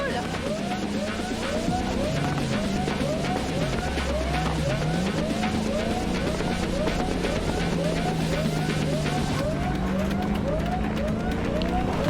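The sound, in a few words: car driving and tire squeal in video game Cyberpunk 2077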